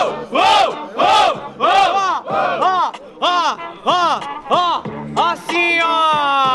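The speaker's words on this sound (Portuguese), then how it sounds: "Quando eu falar Guarulhos, vocês vão gritar, é o Caldeirão" A crowd at a street rap battle in Guarulhos shouts a chant in unison, about eight loud rhythmic vocal bursts ending in one long held cry, close and energetic.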